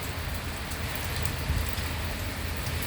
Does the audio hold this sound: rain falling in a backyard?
yes